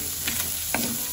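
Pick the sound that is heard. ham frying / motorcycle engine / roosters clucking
ham frying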